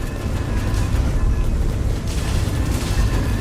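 Ammo explosions in the space combat game Starforged Legacy, a loud, continuous rumbling roar of booms and blasts that fills the whole stretch without a break.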